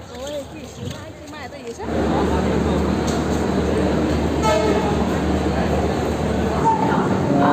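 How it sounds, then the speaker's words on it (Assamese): A train pulls into Rangiya railway station, its horn tooting as a loud, steady rumble swells in about two seconds in and carries on to the end, with people talking faintly near the start. "ট্ৰেইন আহিলে"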